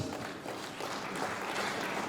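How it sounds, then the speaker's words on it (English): Audience applause for a speaker at a climate resilience forum, a steady wash of many hands clapping at moderate distance, continuous throughout without a break. "Let's give him a round of applause, please."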